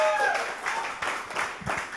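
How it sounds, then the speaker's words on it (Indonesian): Church congregation clapping hands for Jesus, a brief burst of loose, uneven claps with voices and talk mixed in. "Tepuk tangan buat Tuhan Yesus."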